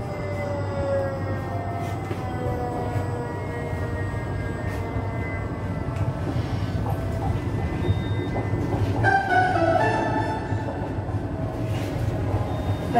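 A Miskolc city tram in Hungary runs steadily with a continuous rumbling roll and rising motor whine, rail clatter and squeals building toward the end, heard from inside at close range.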